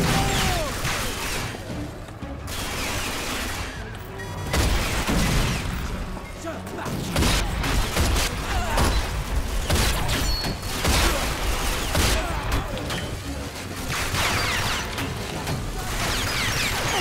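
Dense, chaotic explosions and gunfire from a grenade launcher in the shooter game Rage, a continuous loud barrage of blasts, crashes and mechanical clatter with brief lulls, while a player talks over the action.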